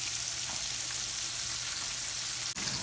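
Garlic frying in oil in a pan, a steady close hiss of sizzling that runs unbroken, with one brief tap near the end.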